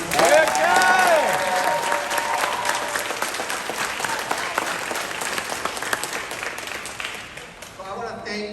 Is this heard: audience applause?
yes